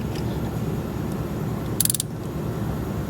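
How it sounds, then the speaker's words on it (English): A long ratcheting wrench tightens a part on a Mazda RX7, giving one brief, sharp burst of ratchet clicks partway through a quiet workshop background. No one speaks. "Try not to over tighten it with this long ratcheting wrench."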